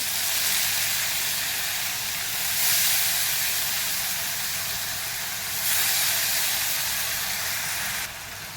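Soaked moong dal frying with onions in a hot pan gives off a loud, steady sizzle and hiss, swelling in two brief surges and dropping slightly at the end, with no talk.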